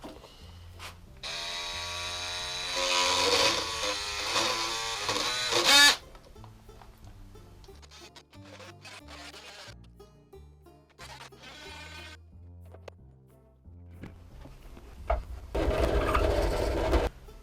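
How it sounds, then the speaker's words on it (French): A drill press bores holes into reclaimed construction-site timber, its motor whining in loud bursts with a sharp stop partway through, followed by quieter clicks and mechanical handling before the drilling resumes. "j'ai réglé la perceuse à colonne"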